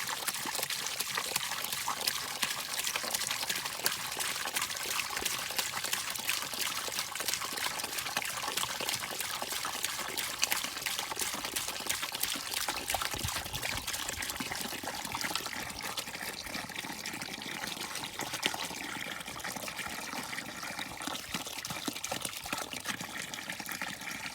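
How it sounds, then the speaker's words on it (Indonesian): Kerosene is poured into a liquid in a soybean field pest trap, giving a steady trickling, splashing pour that runs continuously throughout without talk. "sambil dituang minyak tanahnya nanti biar dia kecampur"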